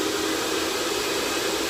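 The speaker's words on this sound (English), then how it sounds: "This is for you to suck in the water faster with stronger power of the vacuum cleaner." An MK wet and dry vacuum cleaner runs with a steady, loud, breathy motor whoosh, constant and unbroken, with no voices.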